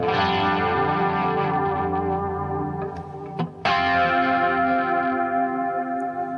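A sustained electric guitar chord shimmers with a wide, wobbling chorus effect, ringing loudly with a brief dropout midway before swelling back.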